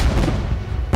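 Loud fireworks alarm going off in the zombie train game Zompiercer, a dense sustained run of booming, crackling bursts filling the whole second with a sharp fresh blast at the very end.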